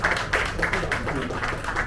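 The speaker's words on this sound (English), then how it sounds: "Can we have a round of applause for ma'am, please?" A crowd claps steadily in a rhythmic round of applause at a campaign launch event, fairly close and loud throughout.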